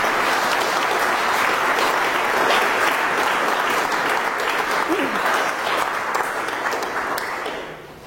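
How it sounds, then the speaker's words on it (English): A large audience applauds George at a talk about Uganda schools, a dense, steady wash of many hands clapping at close range that fades slightly toward the end. "please give George a big round of applause"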